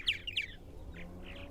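Purple martins at a busy nest house give several quick, bright chirps, two sharp ones close together at first, then softer calls, faint and outdoors with no talking.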